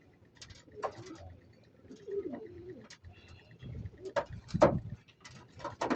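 Pigeons coo in soft, repeated low throaty calls, with scattered chirps and light rustling nearby.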